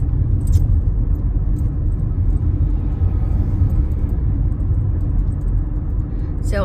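Inside a car driving through a university campus, a steady low road rumble and engine drone run throughout, with a faint rattle near the start and a brief sound at the very end.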